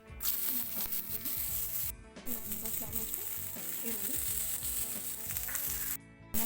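Steady crackling sizzle of cabbage frying in hot oil, loud and close, continuing without pause apart from two brief cuts.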